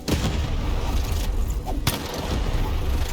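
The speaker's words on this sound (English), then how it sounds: "Shoot the button to fire the cannon." Cannon fire in a video game: a dense, loud roar of booming blasts with one sharp crack standing out near the middle, continuous rumbling throughout.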